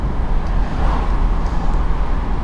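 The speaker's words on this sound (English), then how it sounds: "Okay, that's just increased the wind coming into the car." Wind buffeting into a Mazda MX-5 RF driving with its windows down, a loud continuous rushing roar with low rumble and faint gusting swells, steady across the whole span.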